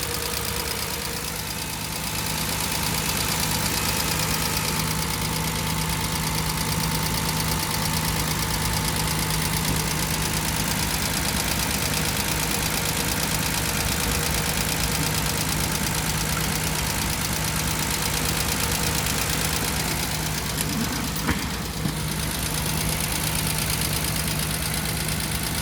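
Car engine idling with tappet noise, a steady low rumble carrying a fast, even ticking clatter, close and loud throughout with no talk.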